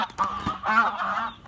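A female goose honks close by, a short burst of nasal, raspy calls with no talking.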